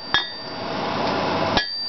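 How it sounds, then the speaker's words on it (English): A veining chisel struck by a hammer into a hot steel leaf on a blacksmith's anvil, two sharp ringing blows about 1.4 seconds apart over a steady background hiss, with no voices. "I'm going to put the veins on with our veining chisel like you see here."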